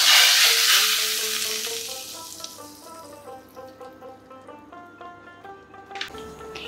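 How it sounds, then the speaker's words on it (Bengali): A hot tempering of ghee and asafoetida is poured into cooked chana dal. A loud, bright sizzling hiss bursts out at once and fades over a few seconds, with soft melodic music beneath and a small clink near the end. "এর মধ্যে দিচ্ছি 1/4 টিস্পুন হিং, এবার এটা ডালের মধ্যে দিয়ে দিচ্ছি।"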